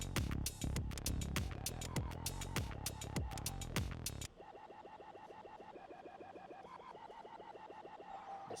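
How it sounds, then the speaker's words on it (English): Synth melody built from a sampled bird sound in Ableton, first over a loud steady beat with punchy hits, then dropping to a quieter run of repeated pitched chirp-like notes alone. "Let's see if I can program a melody using this bird instrument as a melody instrument synth."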